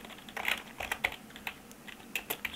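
Short run of quick taps and clicks as an app name is typed into a phone's Play Store search, soft and close, with uneven rhythm and no voices.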